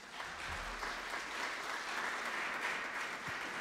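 A church congregation applauding, steady sustained clapping from a crowd in a large room, even and moderately distant throughout, with no talk.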